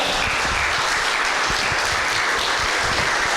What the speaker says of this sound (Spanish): Dale un fuerte aplauso al Rey en esta hora.